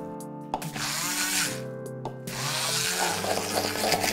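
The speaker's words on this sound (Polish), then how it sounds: "pół kostki tofu wrzucamy do miski i miksujemy na idealnie gładką masę" A kitchen blender whirs steadily, blending half a block of tofu into a smooth paste for a vegan gluten-free cucumber dip, its motor pitch dipping and shifting under the load with a brief pause midway.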